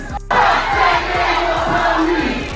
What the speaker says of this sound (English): you could see the whole crowd throwing up middle fingers and chanting, "San Diego Police."